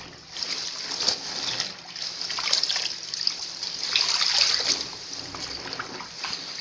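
Water trickles and drips steadily from freshly washed curtains left on an upturned bathroom stool to drain, a soft continuous splatter with no voices.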